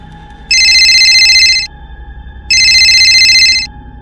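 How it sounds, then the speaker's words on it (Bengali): A telephone rings in two identical bursts of bright electronic trilling, each lasting about a second with a short pause between, loud and close over a faint steady background hum. "রাত 12টা নাগাদ হঠাৎ সোমার ফোন বেজে উঠল"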